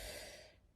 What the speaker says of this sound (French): Donc, on prend une grande respiration.